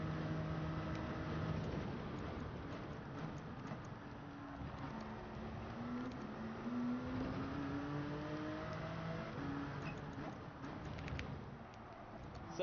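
Race car engine in Gran Turismo 7 on Circuit de la Sarthe, droning steadily with pitch sweeping down and up through gear changes, heard faintly under a muffled, noisy background.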